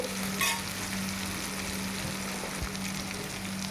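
Tomatoes and curry leaves fry in a pan with a steady, close sizzle and a few stirring scrapes. The frying is for a homemade pani puri filling, and no one speaks.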